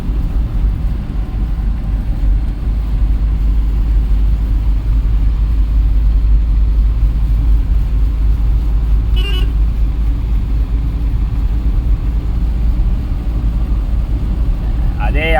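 A truck drives along a road toward a flyover near Markapuram circle, its steady engine and road rumble loud and continuous throughout, with a brief horn toot partway through.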